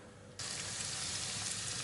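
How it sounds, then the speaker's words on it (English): Flour-coated chicken legs drop into hot oil in a pot, breaking into a sudden loud, continuous sizzle that carries on steadily without talk. "if you're just frying it in the pot, it should take about 15 minutes"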